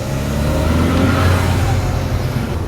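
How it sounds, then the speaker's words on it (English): An engine-swapped Seat Leon on the road, its engine droning loud and steady from inside the car for the whole stretch, rising slightly as it pulls. "we are currently driving down the road in my recently engine swapped Seat Leon"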